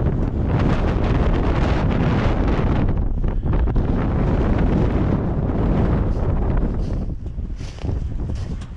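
A fierce side wind buffets a long-haul truck on a winter road with snow-plastered glass, a close, loud, continuous roar of gusts that pulses and dips briefly, with no talking.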